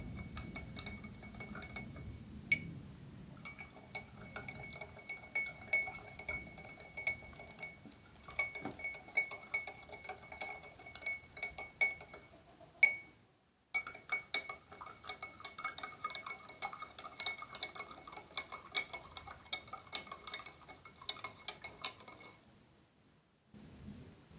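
A spoon clinks steadily against a glass, stirring salt into water in quick, continuous strokes with brief pauses, close and clear with no talking.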